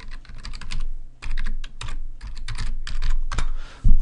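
Someone types a password on a computer keyboard, a close, quick run of clicking keystrokes in short clustered bursts with brief pauses, ending in a heavier final key press.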